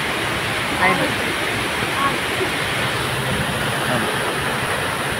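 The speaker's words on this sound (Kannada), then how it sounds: "ಇಲ್ಲಿ ಫಾಲ್ಸ್ ಉಂಟು, ಸೀನರಿ ಕಾಣ್ತಾ ಉಂಟಾ?" A waterfall near Madikeri roars as a steady broadband rush in heavy rain, with faint voices talking over it.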